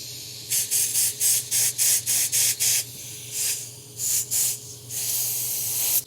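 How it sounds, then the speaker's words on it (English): Compressed air blasts through the tube of a Homelite 4000 watt generator, a rapid run of about nine short loud hissing bursts followed by a few longer sprays and one sustained blast, close up with no talking. "So I think what I'll do is put the air to it."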